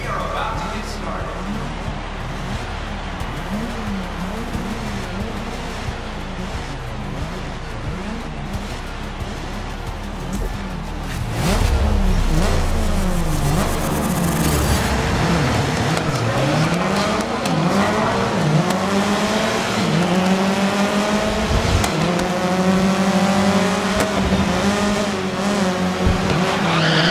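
Race cars roar through a race in the Grid video game on Xbox Series X, with engines droning and revving and tires squealing, loud and continuous, while voices talk over the action.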